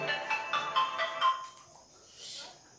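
A mobile phone ringtone plays a quick repeating melodic pattern for about a second and a half, then stops, leaving a faint hiss.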